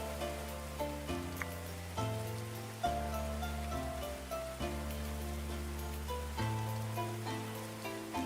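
Rain falls in the medieval colony-building game Going Medieval as a constant soft patter. Slow background music chords play alongside it.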